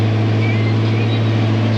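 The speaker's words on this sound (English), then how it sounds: "The old tractor's just bellowing away, trying to get it cut." An old tractor engine labours loud and steady under load while mowing, a deep constant drone that rumbles on without a break.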